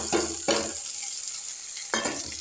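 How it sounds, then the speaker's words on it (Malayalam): A ladle stirs pieces of dosa in hot coconut oil in a pan: three loud scraping, sizzling bursts with pauses between, close up over a low constant hiss. "നമ്മൾ ഒരു തവി എടുത്തിട്ട് കുറച്ചൊന്ന് ഇളക്കാം"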